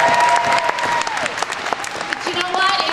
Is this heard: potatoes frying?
no